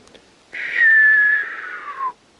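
A person whistles a single sustained, slightly falling tone lasting about one and a half seconds, imitating a white signal flare's whistle.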